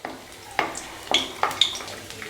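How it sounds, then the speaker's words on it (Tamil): Curry leaves and fennel seeds frying in hot oil while making salna: sharp crackling pops and spattering bursts, four or five distinct crackles over a soft sizzle, close and fairly quiet. "இப்போ இதெல்லாம் நல்லா பொரியணும் இந்த எண்ணெயில்"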